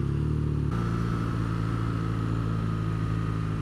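A motorcycle engine drones steadily at speed under heavy rushing wind, a constant low rumble without pauses.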